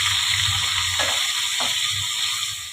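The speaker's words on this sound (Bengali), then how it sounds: "মিক্সিটাকে ধুয়ে আমি একটু জল দিয়ে দিলাম।" Water rinses a mixer grinder jar in a home kitchen while paneer malai masala is prepared, giving a steady, close splashing hiss with a couple of light knocks.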